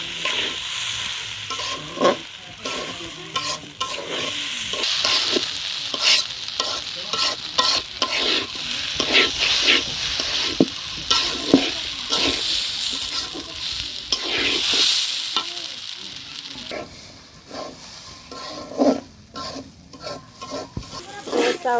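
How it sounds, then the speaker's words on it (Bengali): Raw rice fries and is stirred in a pot for biryani, with a continuous sizzle broken by repeated scraping strokes of the spoon against the metal, close and fairly loud throughout. "আমি আগে চাউলটা ভেজে নিচ্ছি"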